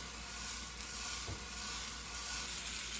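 A pound of ground beef sizzles steadily in a hot pan for sloppy joes, a close, continuous crackling hiss with no talking.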